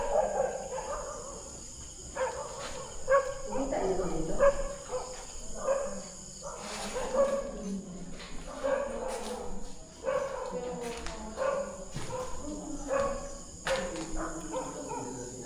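Dog barking near a vegetable garden behind an abandoned canteen, a series of repeated barks at moderate distance, coming in irregular bursts over a faint background of insects.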